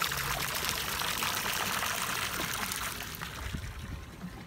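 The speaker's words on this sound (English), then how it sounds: "Just start pumping water." Water gushing and splashing steadily as a boat's bilge pump pushes it out, a constant pouring stream that softens slightly toward the end.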